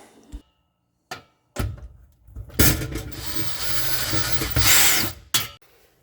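Bursts of a power tool driving screws out of a GE broiler element inside a convection oven, several short whirring runs with pauses, the longest run in the middle, close and fairly loud.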